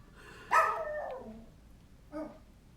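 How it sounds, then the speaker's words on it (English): A dog barks twice during a garage sale, one loud sharp bark followed by a shorter, fainter one about a second and a half later, with no talking. "So I am so sorry my dog will not be quiet"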